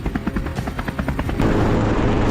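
Helicopters flying over open farmland during a wild boar hunt roar overhead, a loud close rotor chop pulsing rapidly and building to a dense, heavy drone.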